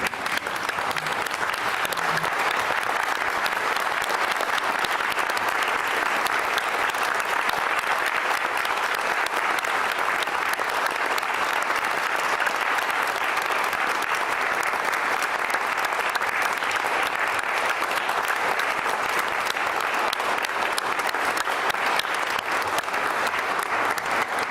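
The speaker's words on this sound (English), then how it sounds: "would stand please so that we can formally applaud these cleverly young things" Sustained applause from a standing audience at a university graduation ceremony, many hands clapping in a dense, even wash that stays loud and steady for the whole stretch, with faint crowd murmur underneath.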